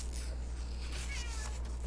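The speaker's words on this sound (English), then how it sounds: "Hi, cat. What do you want? It's my cat." A house cat meows softly and insistently at home, the calls faint and drawn out above a constant low background hum, with no one speaking over them.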